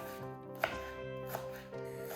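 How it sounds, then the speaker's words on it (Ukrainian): A few sharp knife strikes on a cutting board chopping wild garlic, three distinct chops spaced apart, close by, over a steady tonal background hum. "Далі нарізаю черемшу."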